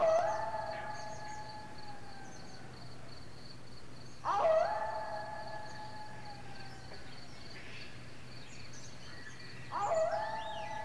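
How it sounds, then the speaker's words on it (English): A coyote gives long, lonely, wavering howls that slide downward, three separate cries spaced a few seconds apart over a faint steady hum, with no voices. "you might have heard the lonely howling of the coyote."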